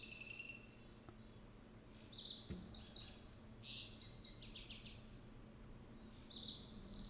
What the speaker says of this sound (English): Like you can hear the birds